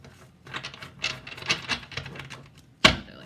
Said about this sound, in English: today, I'm doing my shuffling the old-fashioned way